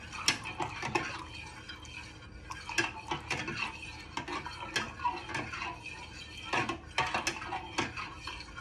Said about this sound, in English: you want to give this a little stir.